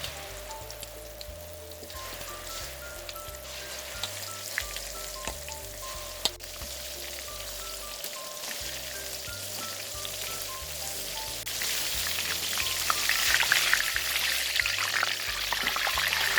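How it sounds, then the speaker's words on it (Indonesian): Stuffed spicy tofu fries in hot oil, a steady close crackle and sizzle that swells louder and busier toward the end, with faint background music underneath. "Goreng tahunya kembali sampai selesai."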